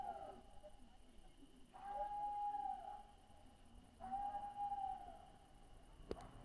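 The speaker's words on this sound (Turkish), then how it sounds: "Yukarıdan kurt sesleri, kurt ulumaları duyulmaya başladı." Wolves howl at night in the hills above Horma Canyon in Kastamonu, Turkey: two long, wavering howls rise and fall in turn, distant and faint over a quiet background hiss, with a soft click near the end.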